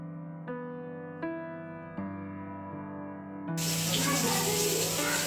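Water gushes from a tap into a bathtub being filled for a four-year-old's bath, a steady close rush that starts after a few soft tonal knocks and then continues loudly on its own.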